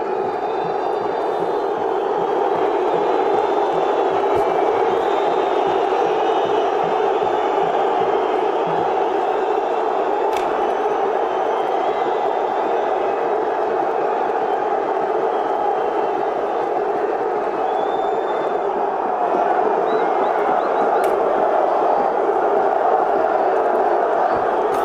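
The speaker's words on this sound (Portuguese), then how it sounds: "Vamos subir o som aí para as vaias." A large São Paulo football crowd boos loudly and continuously at the end of a 2-2 draw with Alianza Lima, a dense, sustained roar of jeering filling the stadium.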